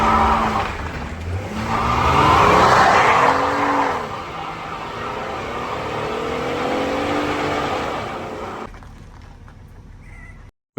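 A Jeep does a burnout, its tires screeching in long wavering squeals over engine roar, loudest early and then fading out near the end.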